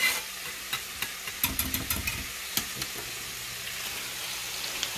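A spoon stirring gravy in a pan on low heat beside frying shrimp, giving soft scraping strokes and light taps over a steady low sizzle, close and alone without talk.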